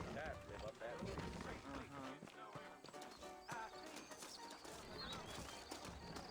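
Horse hooves clip-clop in a steady trot with occasional whinnies, quiet and somewhat distant, while people talk over the scene, in Red Dead Redemption.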